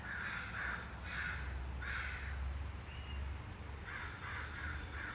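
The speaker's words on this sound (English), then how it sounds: "Crows do not like hawks coming into or any type of bird coming into their sanctuary, that's for sure." Crows caw in repeated bursts of harsh calls, several rounds spread across the clip at moderate distance over a steady low outdoor rumble, with a brief faint higher bird note in between.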